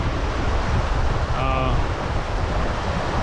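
The braided Thorofare River rushes in a steady, loud broadband roar, mixed with gusting wind buffeting the microphone, with a brief faint voice underneath.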